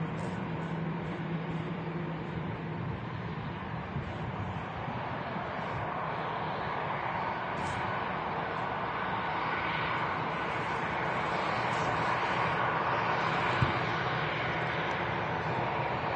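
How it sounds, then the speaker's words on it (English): An easyJet Airbus A320 landing at Manchester Airport, a steady broad jet roar that holds at a distance and builds slightly toward the end. "We have an easyJet A320 from Jersey about to touch down."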